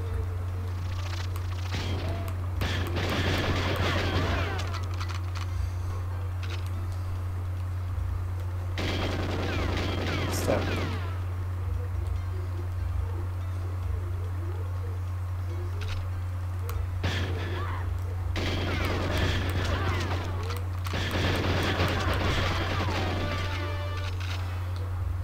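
Gunfire from the video game GoldenEye 007, bursts of rapid automatic shots in several clusters over a steady low hum, with quieter gaps between volleys.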